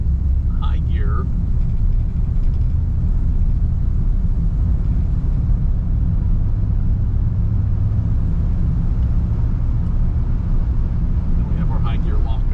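A 1956 Packard with 4,800 original miles, heard from inside while driving in high gear on a two-lane country road, a loud steady low engine and road rumble with a voice briefly over it.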